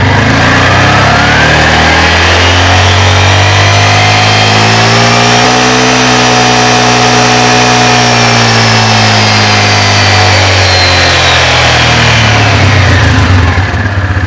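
A Yamaha Grizzly 450 ATV engine revs up loudly and close, pitch climbing and holding steady as the centrifugal clutch engages, then easing back down toward idle.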